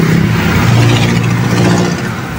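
A carbureted Toyota Corolla 4AF engine, with a faulty TVSV in its cold-start system, runs loud and close with a steady revving drone and no pause.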